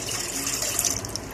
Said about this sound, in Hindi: कंसिस्टेंसी के हिसाब से पानी डालेंगे।